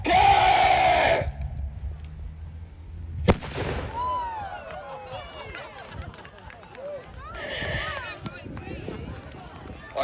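A gun fired at a medieval weekend demonstration at Arundel Castle goes off in a single sharp, loud bang. Voices come before it, and a crowd reacts and talks after it.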